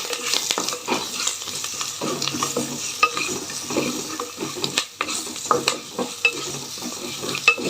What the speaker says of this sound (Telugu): ఇప్పుడు సన్నగా కట్ చేసి పెట్టుకున్న ఆనియన్ ఒక ఆనియన్ వేస్తున్నాను నేను ఆనియన్ కూడా కొంచెం యాడ్ చేద్దాము